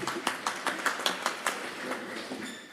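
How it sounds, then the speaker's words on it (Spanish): Quiet applause from a small audience after a mining-industry panel answer, a handful of distinct claps in an uneven rhythm that thins out and fades. "Aplausos."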